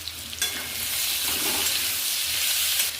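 Steady, loud sizzling of teasel gourd frying in a pan, with occasional stirring scrapes over the continuous hiss.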